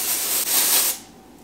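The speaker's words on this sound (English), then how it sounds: "I give it a little spritz with my dry shampoo." A dry shampoo can sprays onto hair in one short, close, continuous hiss lasting about a second before stopping.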